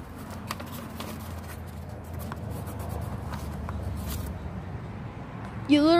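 A pencil scribbles on a paper sign-up sheet with a soft, steady scratching for several seconds, close by, ending as a voice starts.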